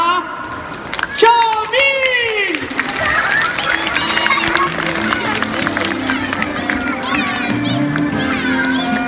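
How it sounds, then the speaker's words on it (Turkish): Audience at a children's show in a Cepa mall, with loud cheering, shouting and clapping from a lively crowd full of children's voices. A whooping cry rises early, then a dense, boisterous hubbub holds steady. "büyük alkışlarınızla"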